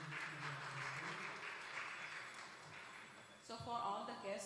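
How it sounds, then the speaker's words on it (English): A temple room audience at a Gita contest claps through a steady round of applause, dense and fairly distant, before a voice starts speaking near the end. "Please give her a round of applause as she makes the announcement."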